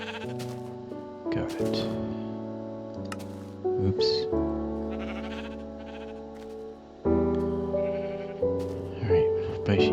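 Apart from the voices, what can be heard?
sheep bleating in the video game Minecraft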